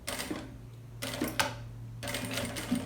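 A sewing machine stitches and backstitches on a backpack, running in three short close bursts of rapid mechanical chatter separated by brief pauses, with a low hum underneath.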